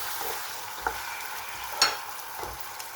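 Meat for a degi-style chicken chana pulao sizzles and fries in a pot, with a steady hiss and a few soft scrapes and knocks as it is stirred.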